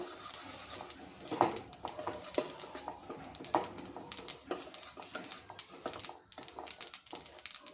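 Roasted sesame seeds are stirred continuously in a pan for winter sesame laddu, giving a close, gritty rubbing and scraping with irregular spoon knocks and a brief pause near the end.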